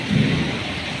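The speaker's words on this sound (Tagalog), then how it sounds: "Sobrang lakas. Mga idol, lakas ang ulan." Heavy rain pours in Jeddah, Saudi Arabia, a dense, steady wash of falling water with a low rumble of thunder swelling at the start, loud and close with no voices.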